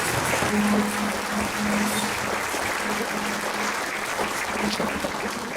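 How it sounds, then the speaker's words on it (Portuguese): A church congregation applauds steadily, a dense wash of many hands clapping that fills the room at an even level from start to finish, with faint voices mixed in. "Vamos aplaudir o Senhor Jesus porque Ele está aqui."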